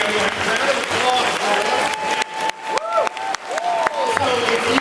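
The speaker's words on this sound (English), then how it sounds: "We have a round of applause." Comic-Con panel audience breaking into applause and some cheering, a lively crowd clapping with a few whoops over a sustained tone, and voices talking over it.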